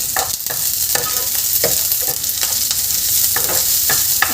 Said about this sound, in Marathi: कांदासुद्धा आपल्याला थोडा वेळ गरम होतपर्यंत होऊ द्यायचं आहे, परतून घ्यायचं आहे.